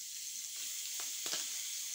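Fish fries in sesame oil, a continuous bright sizzle with faint stirring or shifting clicks, close and steady.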